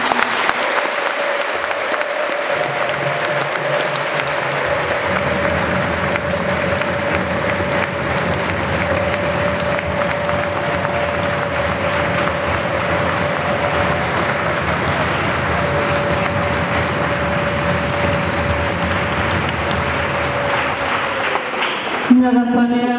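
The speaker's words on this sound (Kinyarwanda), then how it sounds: "Twongere tumuhe amashyi" A church congregation applauds steadily for a long stretch, dense clapping filling the space at a constant level, with a sustained tone running underneath, before it breaks off near the end.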